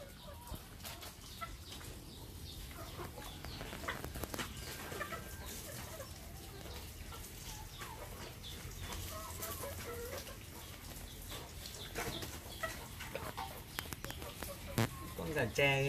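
Free-range chickens, including bantams and a rooster, cluck and squawk steadily amid busy farmyard noise, with a person talking throughout and occasional wing flaps.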